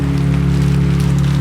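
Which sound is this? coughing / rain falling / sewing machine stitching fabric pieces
rain falling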